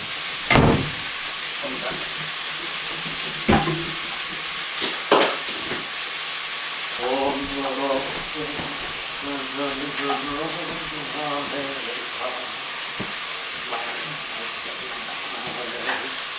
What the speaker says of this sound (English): It will smoke a little because you're frying quite a bit in there.